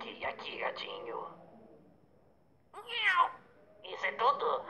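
A cat meows loudly a few times in short, rising cries, with people talking and calling out around it.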